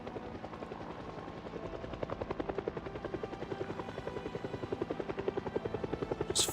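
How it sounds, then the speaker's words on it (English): A video-game helicopter flying in, its rapid rotor chop building into a strong pulsing beat that grows louder and more distinct toward the end, with no talk over it. "the helicopter flies in and then it trolls you for like 10 minutes"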